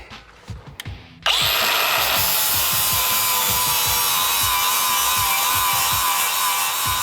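Power tool cleaning up welds on a Jeep Wrangler JK frame after cross member removal, a loud steady high whine starting abruptly after brief clatter and running continuously.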